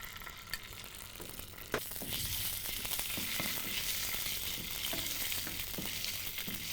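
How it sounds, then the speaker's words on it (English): Cumin and ginger paste sizzle and fry in hot soybean oil, a steady loud crackle with a few sharp pops as the spices hit the pan, no voices over it. "in the soyabean oil I am adding some cumin, and I am adding some ginger paste"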